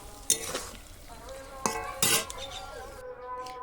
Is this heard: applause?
no